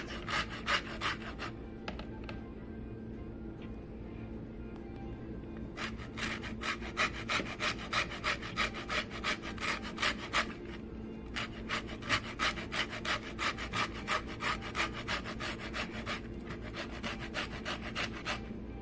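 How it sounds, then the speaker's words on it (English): A whole lemon is rubbed over a grater for its zest, giving steady rhythmic rasping strokes that run continuously at close range, with brief pauses between the scraping passes. "And we're going to zest that lemon."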